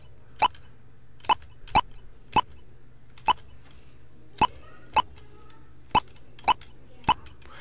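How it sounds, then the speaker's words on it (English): About ten short, sharp electronic blips from a Color Computer (CoCo) programmed in BASIC sound one after another at uneven intervals over a quiet background. "Here's my blip sound."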